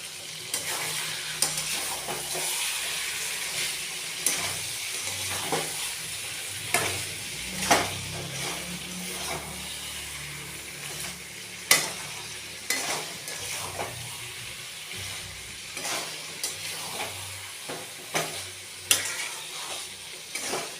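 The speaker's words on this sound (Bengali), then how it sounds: "চিকেন তো অলরেডি ভাজতে ভাজতে সিদ্ধ হয়ে যায়" Chicken fries in a pan with sugar, a constant sizzle broken by frequent scraping and clinking of a spatula as it is stirred, with no talking.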